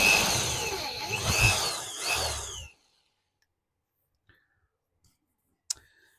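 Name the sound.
power drill drilling a hole with a 4mm drill bit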